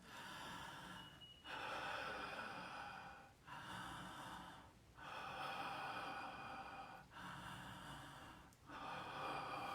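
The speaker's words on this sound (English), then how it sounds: "we're going to do an open mouth connected breathing" Long, open-mouthed breaths in and out flow without pause in a connected breathing exercise, each audible inhale and exhale running for a couple of seconds in a steady cycle, close and fairly loud with no talking.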